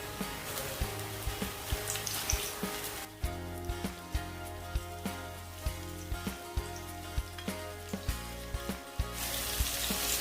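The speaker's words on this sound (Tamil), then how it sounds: "இப்போ நாங்கள் இந்த மாவில் போட்டு மிக்ஸ் பண்ணதை இப்படி போட்டு ஃப்ரை பண்ணி எடுத்துக்கொள்ள போகிறோம்" Chicken popcorn pieces coated in batter frying in hot oil, a steady close crackling sizzle with repeated soft pops, briefly dipping mid-clip before resuming at full strength.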